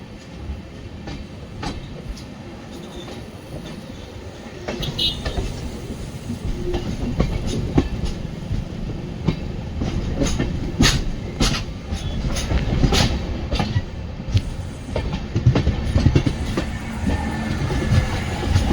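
Intercity superfast express on the Talaguppa to Mysore route with new LHB coaches, heard from on board: steady rumble of the wheels on the rails with recurring clickety-clack joints, growing louder after the first few seconds.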